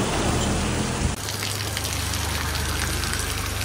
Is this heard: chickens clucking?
no